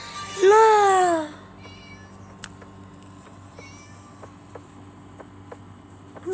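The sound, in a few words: cat meowing in the video game Scary Teacher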